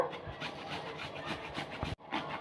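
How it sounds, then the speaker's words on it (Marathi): Indian gooseberries (amla) rubbed across a fine kitchen grater for a jam-like preserve, a continuous close rasping scrape with a brief pause near the end before grating resumes. "आता मी एकदम बारीक असणारी किसणी घेतली आपल्याला आवळे छान बारीक किसून घ्यायचे"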